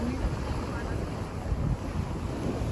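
Steady roar of surf at an island shore mixed with heavy wind buffeting the microphone, continuous and loud with no pauses.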